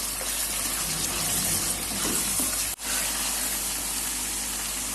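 Minced meat (keema) frying in a pan gives a steady, dense sizzle that runs continuously at moderate loudness, with a brief dropout partway through and no talking.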